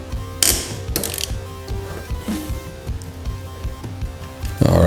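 Ratchet wrench loosening the front axle bolts on a motorcycle, a close rapid clicking that runs steadily with a few louder metallic knocks and no voices.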